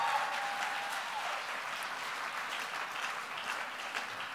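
A crowd at the Verselandia 2013 poetry slam applauds a poet after her scores are read, a steady wash of clapping heard from a distance, with a brief whistle at the start.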